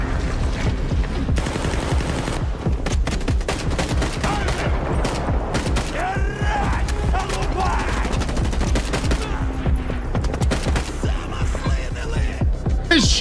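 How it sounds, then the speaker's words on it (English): Rapid video game gunfire, dense bursts of automatic shots rattling almost nonstop, loud and close, with mechanical clicks mixed in and a voice briefly heard. "Yeah, that tends to happen when people are firing at you."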